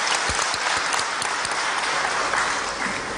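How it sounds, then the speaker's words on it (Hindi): Loud, sustained applause from a large crowd honouring a chief minister at a government loan-distribution event for women's self-help groups, with a few sharp claps standing out near the start. "माननीय मुख्यमंत्री जी का धन्यवाद स्वरूप जोरदार तालियों से अभिनंदन।"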